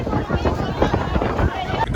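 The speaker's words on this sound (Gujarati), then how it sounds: "તો પવન તો ખૂબ જ છે, જોઈ શકો છો. જોરદાર પવન ફૂંકાઈ રહ્યો છે." Strong wind gusting on Pavagadh hill during the monsoon, a steady rushing roar buffeting the microphone throughout, with people talking in a crowd underneath.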